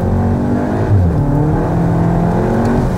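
A 2025 Škoda Octavia RS 2.0 TSI with DSG gearbox revs and accelerates loudly, its sporty engine note rising steadily as it pulls hard, close and continuous throughout.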